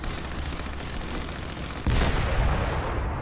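In War Thunder, gunfire hits a B1 bis tank. Shots crackle and thud continuously, and a louder burst of impacts lands near the end.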